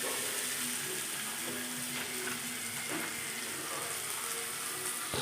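Onions frying in a pan until deep red and almost burnt: a steady, dense sizzle that stays even and close throughout, with faint stirring clatter.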